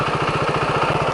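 An adventure motorcycle engine runs steadily just after being started, a close, even, throbbing drone with a regular pulse and no break.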